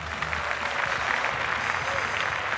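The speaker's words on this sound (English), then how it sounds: "let's give the Destroyer and Robert another round of applause for a fantastic fight" Applause from the crowd at a martial arts fight event, a steady wash of clapping lasting a couple of seconds with a faint voice underneath.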